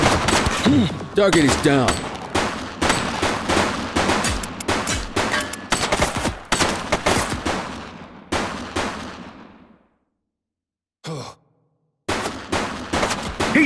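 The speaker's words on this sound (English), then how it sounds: "Shots fired!" Loud gunshots in the police video game The Precinct, with a fast run of rapid shots for several seconds and then silence broken by a single short burst, while a voice speaks over the start.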